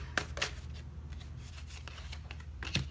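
Tarot cards are shuffled with quick, close riffling and papery slaps in several short bursts, alone with no voices over them.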